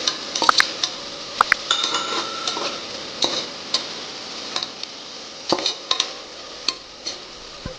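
A spoon stirs beef with mint and coriander in a metal pot, making clinks and light scrapes at an irregular rhythm that are close and fairly quiet, with no talking.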